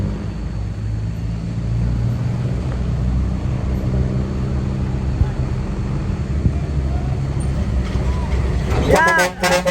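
Heavy truck engine rumbles steadily and loudly while the truck is hitched for towing, a deep continuous drone with a clattering burst near the end.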